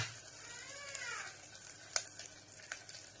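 Onions with ginger garlic chilli paste fry in a pan for a chicken dish, a soft steady sizzle broken by scraping stirs and a sharp clink of the spoon.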